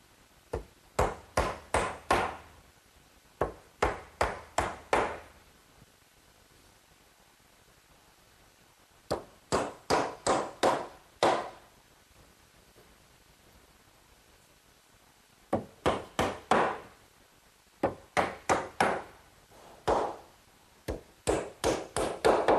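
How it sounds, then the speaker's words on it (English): Hammer blows drive 6-penny galvanized common nails into wooden pickets of a country-style fence, coming in loud, close rapid bursts of four to six sharp strikes separated by quiet pauses. "each of the pails is fastened in place with some 6-penny galvanized common nails"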